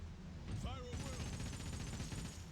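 Ship cannons fire in a naval battle against a tentacled sea creature in the video game Like A Dragon: Pirate Yakuza in Hawaii, a dense, continuous barrage of rapid booms over deep rumbling, with brief swooping tones early on.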